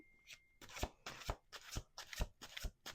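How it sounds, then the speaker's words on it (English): Tarot cards being shuffled in quick repeated riffles, about seven crisp bursts in a steady rhythm, close and fairly soft. "Let's do 2 more shuffles."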